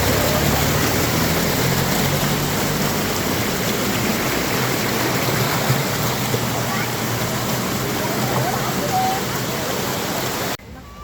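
A waterfall stream pours in a dense, loud, continuous rush of flowing water, broad and steady throughout before cutting off abruptly near the end.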